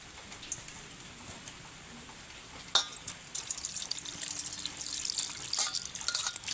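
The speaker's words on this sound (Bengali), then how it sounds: "বড় দেখে একটা পাত্র নিয়েছি মাছগুলোকে ধোয়ার জন্য।" Hilsa fish are washed in a large bowl of water. After a few quiet seconds, close splashing and sloshing water start and grow busier toward the end.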